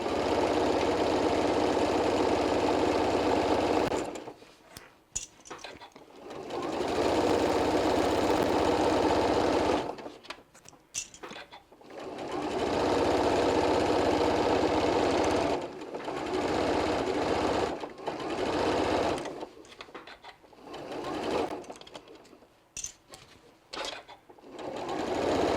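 A serger stitches an adult bib in bursts of steady, loud mechanical whirring, each run several seconds long and broken by short pauses, with no talk over it.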